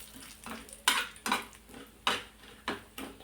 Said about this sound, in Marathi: आता ही डाळ खमंग होईपर्यंत भाजून घ्यायची आहे या तेलामध्येच.